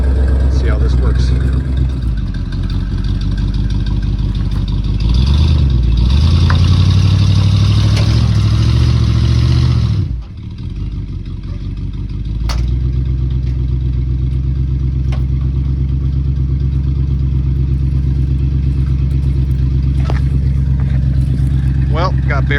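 Engine of a 1978 Ford Bronco running in four-wheel drive, with a loud, close, rumbling drone that surges in revs midway, briefly dips, then settles into a steady labouring hum. Talk is heard at points over it.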